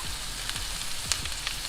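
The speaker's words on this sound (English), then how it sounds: "just saute the asparagus with the butter and the olive oil" Asparagus sautéing in butter and olive oil in a pan, a steady soft sizzle with a few faint crackles and stirring clicks throughout, fairly quiet and without talk.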